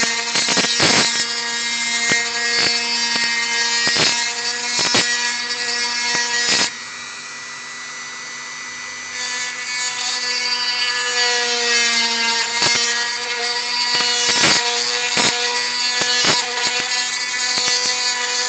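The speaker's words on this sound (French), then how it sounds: "on va élargir le trou" A small rotary tool drills to widen a hole in a Star Wars Legion AT-ST model kit, a steady close whining grind with repeated scraping bursts, a brief quieter pause midway, then grinding again.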